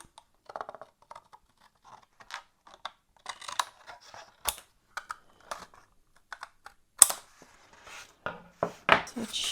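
Scissors cut carefully along a line on paper for a watercolor and colored pencil Christmas card, a close series of soft irregular snips and crisp crunches with short gaps between cuts.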